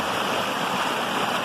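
Stream water pouring steadily over a small natural dam of rocks, sticks and leaves about two feet high in a brook, a close, continuous rushing wash with no voices.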